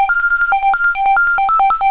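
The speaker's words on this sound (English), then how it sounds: "You can also recall some arpeggiator settings." Moog Messenger synthesizer running an arpeggiator preset, a bright, beepy sequence of rapid plucked notes hopping quickly between a few pitches in a steady fast rhythm, clear and alone.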